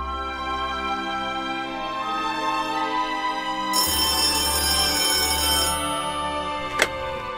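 A telephone rings in a Taiwanese radio drama, a steady electronic ringtone of repeating tones that shifts pattern partway through and ends with a short click, with no talk over it.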